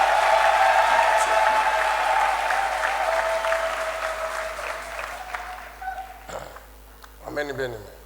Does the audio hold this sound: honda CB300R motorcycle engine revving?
no